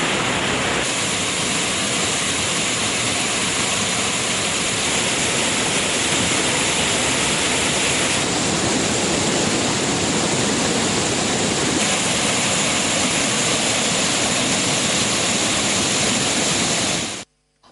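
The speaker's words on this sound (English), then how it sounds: "water is being released from the major spill gate, which has been opened by 4 inches" Water rushes out of the major spill gate of Giritali tank, opened by four inches, as a steady, loud broadband roar that continues unbroken for the whole stretch before cutting off abruptly.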